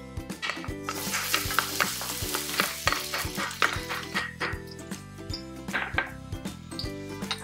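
Onions hitting hot Baguio pure coconut oil for pork fried rice, loud crackling sizzle punctuated by rhythmic spatula clacks and stirring strikes against the pan.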